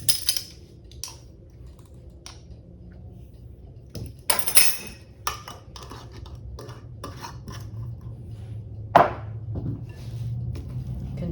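Active dry yeast mixture is stirred in a favorite bowl with a dough paddle, giving scattered light clinks, scrapes and taps at irregular intervals over a low steady room hum, with no talking.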